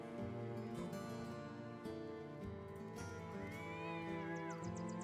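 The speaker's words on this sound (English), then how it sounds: "Hear a cat in the background." A cat meows in the background over steady game music, its rising and falling call drawn out for about a second near the end.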